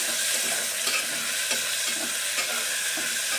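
Tomatoes for a vegetable pulao sauté in a pan, giving a steady close sizzle with soft scraping stirs repeating every second or so, and no voices.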